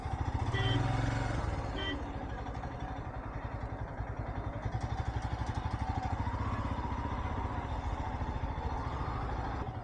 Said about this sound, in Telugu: ఈ సర్కిల్ దాకా వచ్చాం, అయినా ట్రాఫిక్ జామ్ ఉందేంటి? బైక్స్ ఇక్కడ, వెహికల్స్ ఇక్కడ దాకా రానివ్వకూడదు కదా